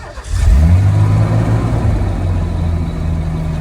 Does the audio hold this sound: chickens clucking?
no